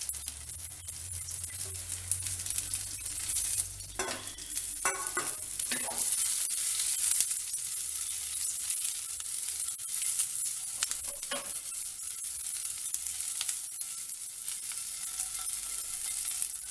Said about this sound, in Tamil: இதை இப்போ ரோஸ்ட் பண்ணிடுவோம்.